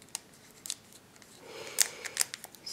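A Pokémon XY booster pack is cut and torn open close by, with sharp snips and crinkly foil rustles coming in irregular bursts over a quiet background.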